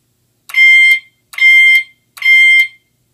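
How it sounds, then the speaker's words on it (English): A Cerberus Pyrotronics fire alarm chime sounds coded zone three: three bright, ringing bursts, each about half a second long, evenly spaced and separated by silence, loud and close. "So you hear that it does three rounds for each distinct zone that's in alarm before moving on to the next zone."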